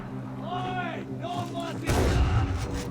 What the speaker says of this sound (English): It's not a bad shotgun.